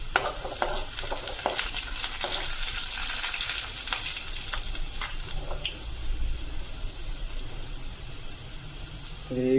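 Garlic sizzling in hot oil in a pan, a continuous crackle with scraping stirring strokes and a few light clinks, close and steady, with no voices.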